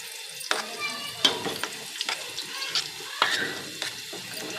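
Semolina and gram flour halwa cooks in a pan, a soft sizzle under repeated scraping stirs with sharp clicks of a spoon against the metal, close and steady.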